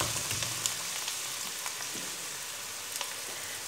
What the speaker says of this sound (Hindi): प्याज को करेंगे हल्का सा हम सिर्फ फ्राई